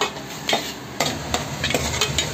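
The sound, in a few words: curry leaves sautéing in a pan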